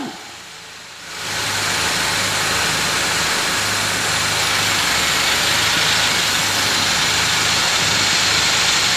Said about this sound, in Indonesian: Setelah itu mesin bisa kita hidupkan.